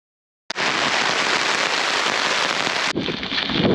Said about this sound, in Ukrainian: Дощ почався і лє, як з відра.